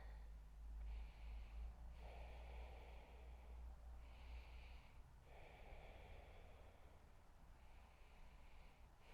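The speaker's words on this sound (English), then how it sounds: "Breathing here." Slow, steady yoga breathing held during an eagle-arms pose, close and audible as long alternating inhales and exhales in an even rhythm over a low background hum.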